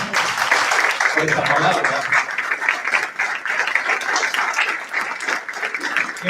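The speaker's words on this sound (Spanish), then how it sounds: "¿Cuánto le dan un aplauso al Señor" A church congregation breaks into applause during a sermon, a broad wash of clapping that carries under a preacher's voice speaking Spanish, rising early then continuing in uneven waves.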